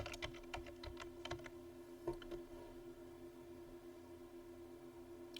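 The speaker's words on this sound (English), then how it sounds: "and type Sasha" Faint clicks of computer keyboard typing come in a short cluster of keystrokes and then trail off, with a soft room hum underneath and no talking.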